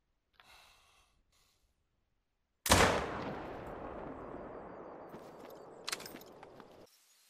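A scoped hunting rifle fires a single sharp shot in the hunting game The Hunter: Call of the Wild, followed by a long echoing tail and quieter rustling noises afterward.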